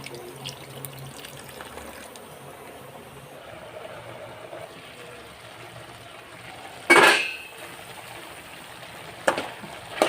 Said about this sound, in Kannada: ಬೋಡುತ್ತಿನಾತ ನೀರು ಪಾಡೊಂದು ಮಿಕ್ಸ್ ಮಾಡ್ಕೊ ನೋಡು